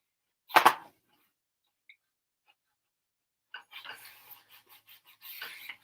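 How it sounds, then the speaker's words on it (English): A paper album page edge is burnished with a quick, close rubbing scrape, then after a pause with a series of softer, short strokes. "Burnish."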